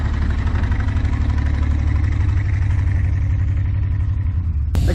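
A 1970 GMC truck engine idles in freezing snowy weather, a loud continuous low rumble running steadily throughout and cutting off abruptly at the very end.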